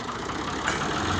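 A tractor engine idles steadily at close range, a dense low rumble that holds level for the whole short stretch, with no voices over it.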